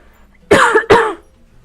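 Two sharp coughs follow each other quickly from a person close to the microphone, loud against a quiet room.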